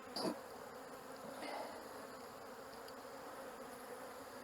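Honeybees buzz faintly around a hive entrance, with a couple of brief, slightly louder passes near the start against a quiet, steady hum.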